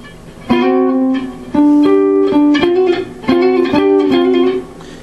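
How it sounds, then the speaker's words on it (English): A guitar plays repeated note patterns in rolls with a pick only, in bursts, each phrase sounding clear and evenly attacked, with short pauses between. "If you play it with just the pick, it's going to sound like this."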